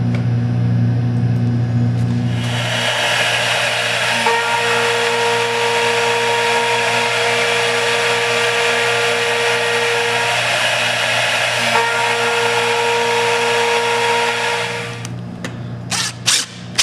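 A power tool cuts a mortise into a live-edge walnut conference table, running as a loud, steady drone with sustained tones for about twelve seconds before winding down and stopping near the end.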